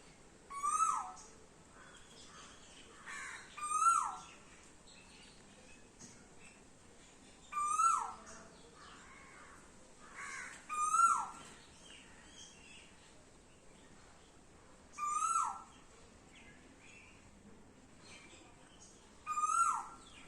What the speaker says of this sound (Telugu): కేరళ కొబ్బరి తోటల్లో, అరటి తోటల్లో ఇలా కోయిలలు రోజు వచ్చి అరుస్తూ బాగుంటుంది